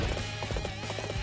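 Horse hooves galloping in the video game Dynasty Warriors 8 Empires, a quick run of rhythmic clip-clop beats over steady battle background noise.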